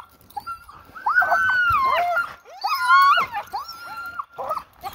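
A halted sled dog team whines and yelps eagerly in repeated high, wavering bursts with short pauses, close and fairly loud, several dogs overlapping.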